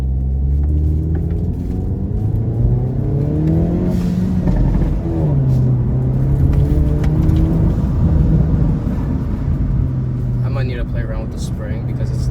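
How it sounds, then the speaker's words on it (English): A Hyundai Elantra N with a GFB Deceptor Pro II blow-off valve drones and revs steadily up close, with a short airy venting hiss breaking through near the end as the throttle eases off. "every little release of the throttle is venting a bit"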